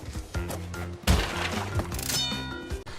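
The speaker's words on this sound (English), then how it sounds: "or smashing your first box" A wooden crate smashed in the Crash Bandicoot video game gives a sharp splintering crack and clatter of breaking wood, loud and close, set against ongoing game music.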